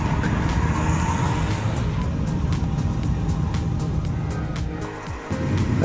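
A motorbike arrives in the crowded car park at the Triumph factory in Leicester during a bikers' day, its engine rumbling steadily up close with a brief dip near the end, with no talk.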